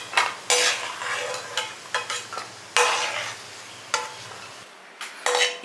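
Cashew nuts frying in ghee in a pan, with repeated bursts of sizzling and the scrape of a spoon stirring, close and fairly loud, alone without talk.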